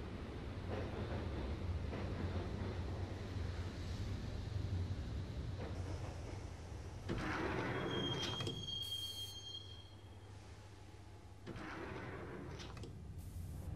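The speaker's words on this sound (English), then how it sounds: "the train doors had already shut behind me, and I was in for the ride" A subway train ride in the Max Payne game: steady rumbling carriage noise with rail clatter, a thin squeal of wheels and hissing door-like bursts, fairly quiet and continuous with no talk.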